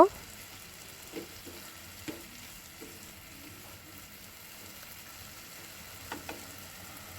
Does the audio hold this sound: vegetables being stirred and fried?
yes